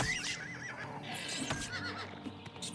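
A horse in the video game Oblivion Remastered whinnies loudly and shakily, followed by softer snorts and hoof clopping nearby.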